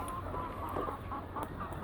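Domestic hens give soft, faint clucks over a low background hum, a few short calls spaced unevenly.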